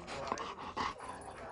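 A dog makes soft whimpering and panting sounds close by, faint and mixed with background noise.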